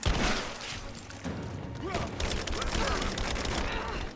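Rise of the Tomb Raider combat: loud, booming shotgun blasts and other gunfire crack out in quick succession amid clattering weapon mechanisms, dense and close for a few seconds.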